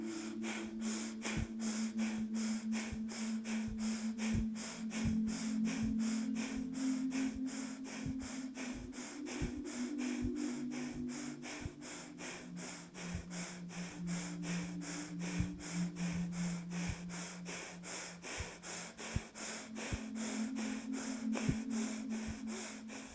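Steady rhythmic breathing during a guided morning breathing exercise, a long run of repeated passive inhales and exhales over a soft droning music bed, with sharp regular breath pulses and no talk.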